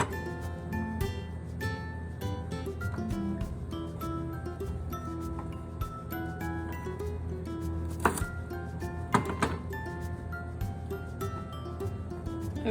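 A knife chops through the ends of green beans on a cutting board with quick, light, irregular cuts, plus a couple of sharper knocks, over a steady hum in the background.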